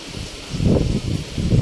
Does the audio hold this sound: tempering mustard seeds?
no